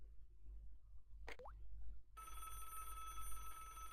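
A telephone in the Broken Sword point-and-click adventure game, first a short plop-like blip, then a steady electronic ringing tone that starts abruptly and holds, over a low background hum.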